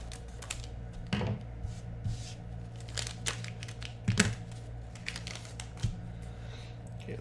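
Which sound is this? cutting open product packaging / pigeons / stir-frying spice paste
cutting open product packaging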